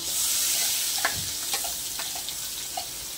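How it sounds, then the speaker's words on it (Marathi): Masala frying in oil in a pan on low heat as red chilli powder goes in, a loud constant sizzle with a few soft taps and scrapes of a spoon stirring. "मी 1 चमचा लाल तिखट त्याच्यामध्ये घालते।"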